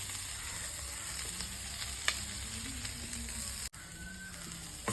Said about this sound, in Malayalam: നെയ്യ് കുറച്ചും കൂടെ വേണമെന്ന് തോന്നി, അതാണ് കുറച്ചും കൂടെ ഇട്ടത്.